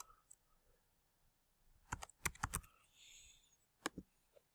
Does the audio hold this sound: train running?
no